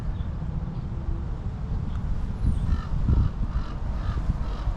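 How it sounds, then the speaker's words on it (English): Crows cawing in a cemetery memorial park, a few scattered calls from a moderate distance over steady outdoor ambience and low rumble. "More crows following me around."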